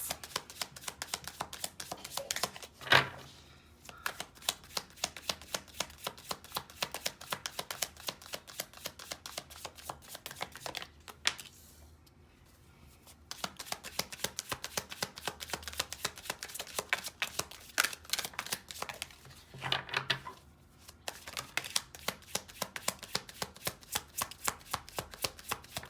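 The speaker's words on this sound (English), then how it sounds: "I seen this when I was shuffling" Tarot cards being shuffled close up in rapid, crisp riffling bursts, steady and continuous with two brief pauses, and no talking.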